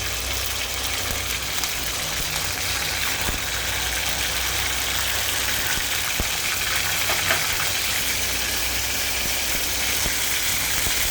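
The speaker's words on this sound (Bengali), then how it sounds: "তেলটার মধ্যে হালকা পাঁচফোড়ন দিলাম।" Panch phoron spices sizzle steadily in hot oil, a continuous, close, even crackling hiss that runs without pause.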